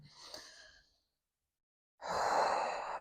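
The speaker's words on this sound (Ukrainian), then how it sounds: "Все супроводжуємо диханням." Two slow breaths during a yoga session: a soft exhale fades out, then after a pause of silence comes a louder, steady breath close to the listener, with no talking.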